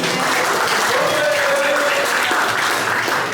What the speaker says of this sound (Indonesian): Kita beri aplaus untuk Bagas.